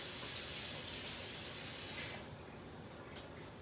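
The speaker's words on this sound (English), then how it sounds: "I wash my hands over here." A tap runs steadily into a kitchen sink as hands are washed, a close, even rush of water that fades slightly near the end, with no voices over it.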